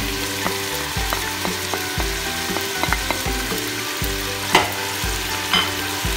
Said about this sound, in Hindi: इसको 2-3 मिनट के लिए इन्हीं मिसालों में हम लोग भुनेंगे